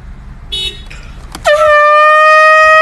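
A loud air horn blasts back at a car behind at a red light, a short horn toot followed by a sustained, piercing honk with strong harmonics, preceded by a brief engine noise.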